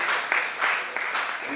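Crowd applause at an international humanity conference panel, a continuous broadband wash of many clapping hands in brief surging waves, moderately loud and with no one talking over it.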